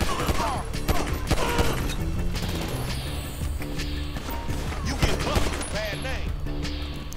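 Dense, rapid gunfire in GTA 5 story mode, loud bursts of shots and impacts crowding together under a voice.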